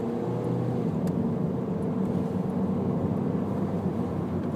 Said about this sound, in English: Let's give it a little bit of gas here.